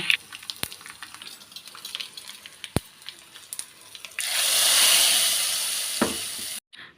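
Tempering for a dal and tomato curry sizzles loudly in hot oil, a sharp burst of frying noise following a few quiet clicks and taps, holding steady for about two seconds before cutting off.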